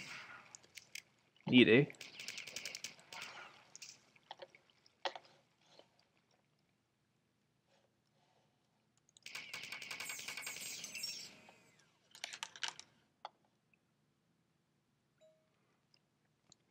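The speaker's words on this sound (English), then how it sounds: "let me showcase the shotgun first" A shotgun fires in the first-person shooter Marathon 2: one loud, low, booming blast early on, followed by scattered weaker bursts and game noise, with someone talking in between.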